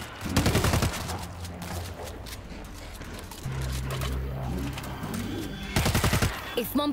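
Bursts of gunfire crackle in the World War Z Marseille episode with French Resistance fighters, loud volleys at the start and again near the end with a steadier stretch of game noise between them.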